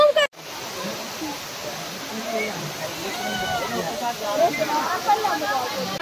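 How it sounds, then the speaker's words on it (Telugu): Water pours steadily from a pipe set up as an outdoor shower at Maredumilli, a constant close hiss and splash with voices faintly underneath. "పైప్ నుంచి వాటర్ వస్తుంది, అది మా కోసం షవర్ సెట్ చేశారంట"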